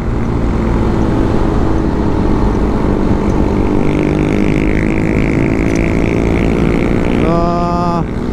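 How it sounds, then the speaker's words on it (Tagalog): Loud engine noise recorded while riding a Kymco KRV Moto 180 motorcycle, a continuous droning roar with wind rush that stays steady throughout, ending with a brief tonal whine near the end. "Ang ingay-ingay ng motor na yon"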